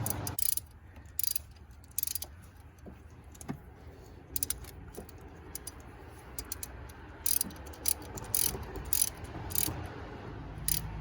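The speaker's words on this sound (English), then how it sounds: "Then I'm going to put it back on the ratchet and then I'm going to tighten it up." A ratchet tightens the camshaft position sensor bolt on a 2005 Nissan 2.5 L four-cylinder engine, giving faint, intermittent bursts of quick clicking with short pauses between strokes and no talking.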